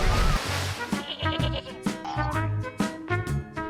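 Several short goat bleats, repeated at irregular intervals over a few seconds, fairly close, with some background noise.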